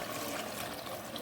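Water poured from a large mug into a pot of beef karahi, a steady close splashing trickle lasting the whole moment with no voice over it.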